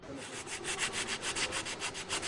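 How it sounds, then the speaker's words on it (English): Restorers finish-sanding the marble fluting of a Parthenon column in Athens, a steady rhythmic back-and-forth rasp of about a dozen strokes, close and moderately loud. "The restorers now need only apply a finish sanding to the most distinctive feature of the"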